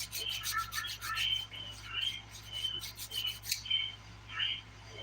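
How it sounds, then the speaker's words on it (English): Skin around the cuticles and nail side walls being buffed with the 100 grit side of a nail file, soft repeated scratchy rubbing strokes in a steady rhythm, close and quiet. "I will flip my file over to the 100 grit side"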